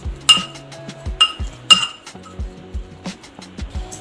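A spoon clinks sharply against a metal pot several times, with softer scraping stirs in between, close and without talk, as red chilli is stirred into a moth bean curry.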